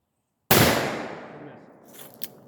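One sharp, loud shot from a Colt 1851 revolver breaks a silent background and fades as it echoes outdoors, with faint rustling afterward.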